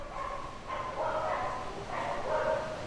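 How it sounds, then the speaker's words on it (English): Several dogs bark repeatedly at a distance, in short bursts of yips and barks over about three seconds, faint and unobscured by speech, as a mail carrier arrives at a rural property. "sorry about the dogs."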